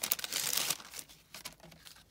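Plastic sachets holding handmade paper art trading cards crinkle and rustle up close as they are handled, a burst of dense crackling followed by several shorter crinkles.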